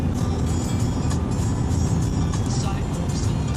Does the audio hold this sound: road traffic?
yes